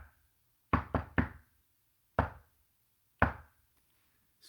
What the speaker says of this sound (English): Leo knocks